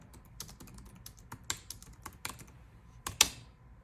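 Keys clacking on a Freewrite Traveler, a compact portable writing device, in sparse irregular bursts with short pauses, close and fairly quiet, ending on one sharper, louder keystroke.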